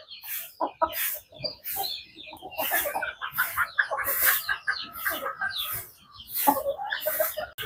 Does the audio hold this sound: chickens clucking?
yes